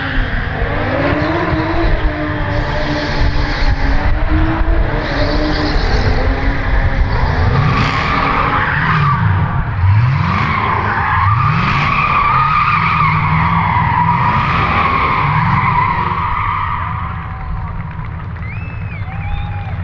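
A DTM race car engine with turbo boost bounces on the rev limiter, a loud, continuous, stuttering high-pitched roar from close by that lasts about twenty seconds, with repeated sharp pitch sweeps and no talk over it.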